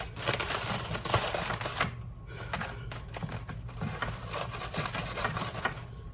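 A serrated knife saws through warm, tender smoked brisket, making close, rapid, rhythmic scraping and tapping strokes against the meat and board, with a brief pause midway before the cutting resumes.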